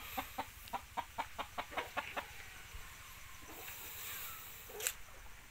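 Pure red junglefowl cross chickens, rooster and hens, give a quick run of about a dozen rhythmic clucks, then quieter calls and a brief sharp squawk near the end, close by with no talking.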